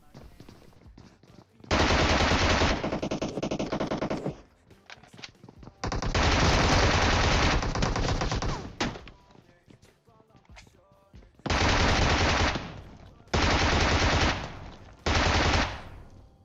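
Bizon submachine gun fire in PUBG Mobile: five long, loud sustained automatic bursts separated by short gaps, dense rapid shots filling each burst, with faint voice between.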